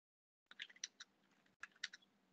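Someone types a name on a computer keyboard in two short bursts of crisp, close key clicks separated by a brief pause, with quiet surroundings.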